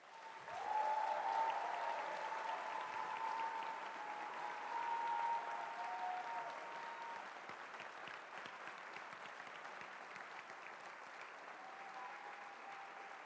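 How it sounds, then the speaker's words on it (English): Sustained applause from a large audience at the closing ceremony of the Erasmus Generation Meeting in Seville, steady dense clapping filling the hall for over ten seconds, gradually easing slightly toward the end. "please, a big, big, big applause for my teams"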